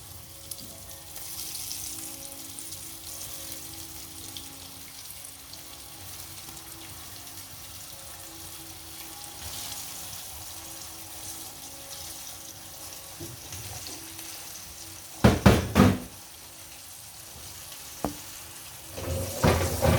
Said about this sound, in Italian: Le lasciamo friggere a fuoco alto in questo momento.